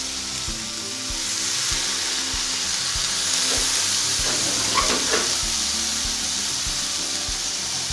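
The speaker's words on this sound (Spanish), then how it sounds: "En el momento en que se está friendo esto, que está soltando su grasita, ¿verdad?" Food sizzling steadily in a pan as it fries in its own rendered fat, a dense continuous crackle with occasional stirring or shifting sounds, close and moderately loud, no talking.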